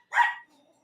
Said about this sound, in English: You're going to hear dogs in the background because the family's getting home.